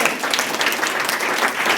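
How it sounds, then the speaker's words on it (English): A conference audience applauds in a dense, steady wash of many hands clapping at once, sustained and fairly loud for the whole stretch with no talk over it. "I think we need to have a round of applause for those individuals"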